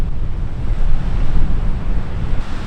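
Steady, loud ocean surf and waves at the northern tip of Fraser Island, a continuous broadband wash mixed with wind buffeting the microphone, with no voices present.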